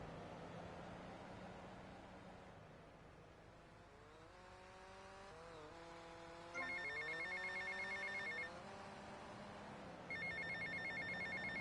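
A payphone rings in GTA Vice City, two bursts of a bright electronic trill over low traffic and engine rumble in the background.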